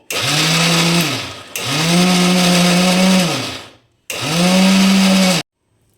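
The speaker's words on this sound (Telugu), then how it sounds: "ఇప్పుడు దీన్ని మిక్సీ పట్టుకుందాం" An electric mixer grinder grinds soaked green gram with green chillies for pesara garelu batter, whirring loudly and close in three pulses separated by short pauses.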